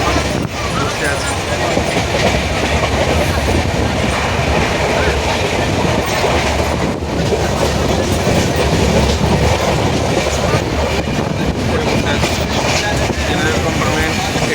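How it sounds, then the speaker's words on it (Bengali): Inside the general compartment of a moving passenger train at night, a loud, steady rumble mixes with rhythmic clickety-clack of the wheels over the rails, filling the whole stretch without a break. "আমি এখন ট্রেনে আছি আর ট্রেন ছেড়ে দিয়েছি"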